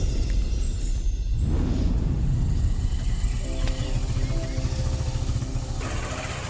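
A motorcycle engine idles close by with a steady low rumble that runs unbroken for the whole stretch, with no voices over it.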